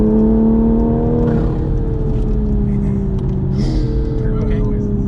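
A JB4-tuned Toyota GR Supra with an intake and catted downpipe pulls hard under acceleration, its steady engine drone rising and shifting in pitch through one gear change, heard from inside the cabin with a voice talking over it.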